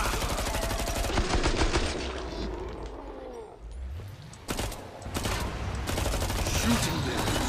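Rapid bursts of automatic gunfire in the shooter game Killing Floor 2, close and loud, rattling in dense volleys with a short lull in the middle before firing resumes.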